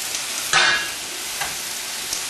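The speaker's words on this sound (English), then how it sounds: "Beef is starting to sound like it's almost ready." Beef frying in a pan for a bodybuilding meal, a steady moderate sizzle with a brief louder burst as it's stirred, close and without talk.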